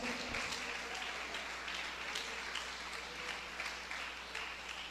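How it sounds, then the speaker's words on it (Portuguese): A church congregation applauds in worship, with a continuous wash of many hands clapping at a fairly faint, distant level over a low steady hum. "aplaude a Jesus com muita alegria"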